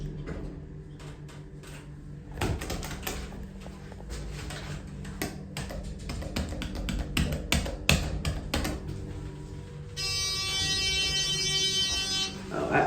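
Harsh electrical buzz from a Dover Oildraulic hydraulic lift at Toombul Station, a constant tonal drone running throughout, mixed with button taps, clicks and knocks inside the car, with a shrill high-pitched whine joining in the last few seconds.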